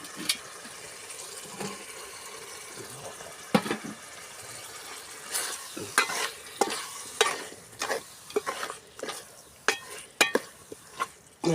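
Squid curry ingredients stirred in a pan, a soft sizzle broken by irregular scraping and clattering spoon strokes that grow busier toward the end, close by with no voices.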